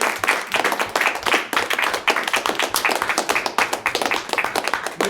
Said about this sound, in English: So a round of applause for Nate James.